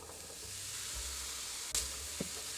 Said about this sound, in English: I've rinsed and drained these. I'm going to add these to the pan.